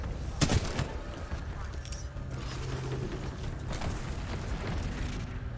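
Gunfire and combat noise in the video game Titanfall 2, a steady rumbling wash of shots with a few sharper cracks and mechanical clanks throughout, fairly even in loudness.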